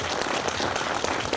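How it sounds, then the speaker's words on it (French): Applause for André Aymon at a morning gathering in Saint-Alexandre-des-Lacs, a steady dense patter of many hands clapping filling the whole short stretch without a break. "donnons une bonne main d'applaudissement à André Aymon pour ce qui lui est arrivé"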